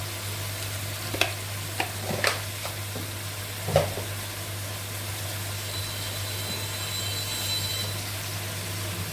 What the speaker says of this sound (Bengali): ধনিয়ার গুঁড়া মশলাটা কষিয়ে নেব একটু